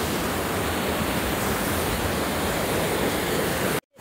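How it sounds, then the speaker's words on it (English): A waterfall roars close by in a dense, steady wash of falling water that cuts out abruptly just before the end. "I don't care that I'm on a fucking waterfall."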